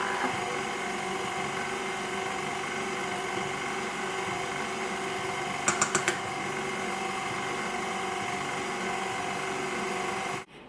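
An electric stand mixer whirs steadily as it beats cupcake frosting of icing sugar with added vanilla, a constant motorised drone with a brief rattle of clicks midway before it stops.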